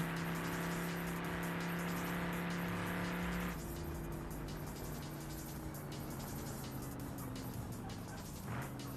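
A car in a racing video game slides through turns with a steady engine drone and shifting pitch, moderately loud and continuous with no talk.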